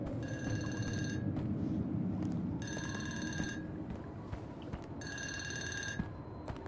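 An old telephone rings in Unforgiving - A Northern Hymn, with three long, shrill electronic bursts separated by pauses, set over a low droning ambience.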